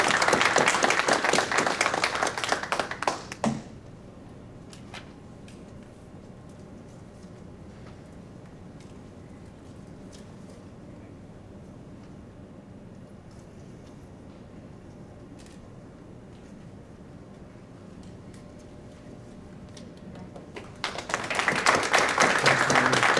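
Audience applause at a TSA San Diego airport honorary awards ceremony, a loud burst of clapping for an award winner that drops away to quiet room tone, then swells again near the end.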